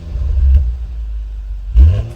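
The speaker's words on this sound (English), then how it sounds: "You need to hear what the exhaust note is like" A 2016 BMW 640i exhaust barks with two deep, loud revving blips close by, separated by a short lull of low rumbling idle.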